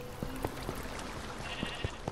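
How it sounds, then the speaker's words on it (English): A sheep in Minecraft Dungeons gives short bleats spaced irregularly over a dense, noisy game soundscape, faint to moderate, with no talking. "Why is this sheep up there?"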